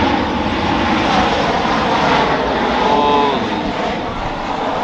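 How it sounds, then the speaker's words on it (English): A fixed-wing airplane flies low overhead in Los Angeles, a loud, continuous engine roar that swells and then slowly eases. "Look at this fucking plane, bro."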